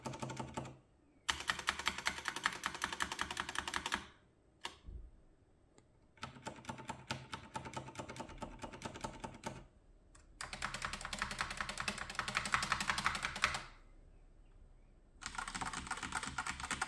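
Mechanical keyboards from Ducky, Razer Huntsman and Das clatter through several bursts of rapid typing, each run of dense, crisp key clicks broken by brief silent pauses.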